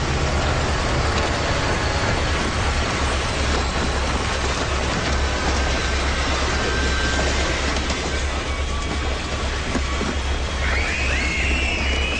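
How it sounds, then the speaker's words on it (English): A train rumbles past nearby, a loud continuous roar with rattling wheels and a faint squeal toward the end. "It's just a train."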